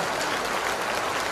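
An audience claps for a teacher at a public gathering: dense, continuous applause that stays loud and even throughout.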